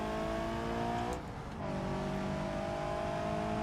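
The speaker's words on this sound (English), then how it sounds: "Should I shut up and let you listen to the car noises?" Car engine in the BeamNG driving game, a steady sustained drone with a brief dip in the middle before the tone settles back, with no talking over it.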